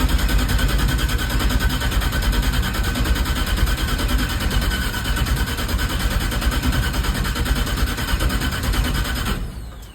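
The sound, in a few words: starter cranking an LS engine in a Ford F100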